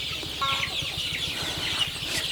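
Sonali chickens in cages cluck in a busy, overlapping flock, steady and close, with a rapid rhythmic mechanical ticking underneath.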